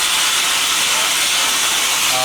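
Compressed air from a sandblasting compressor used on metal tubes hisses loud and steady, a dense broadband rush with no break.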